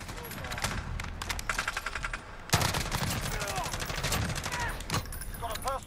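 In Call of Duty Modern Warfare, an H&K G36 rifle fitted with attachments fires rapid automatic bursts, with a sharp louder volley about midway, while someone talks over the shooting.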